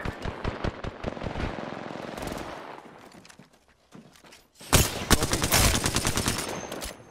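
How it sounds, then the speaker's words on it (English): Rapid gunfire in the Apex Legends video game striking the player, with dense bursts of automatic shots, a quieter lull in the middle, then a loud renewed volley of close, sharp cracks. "Shots fired and they're hitting me."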